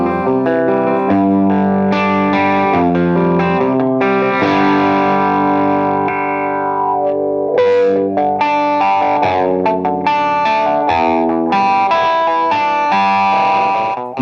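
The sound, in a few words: guitar through Dunlop Mick Ronson Cry Baby wah pedal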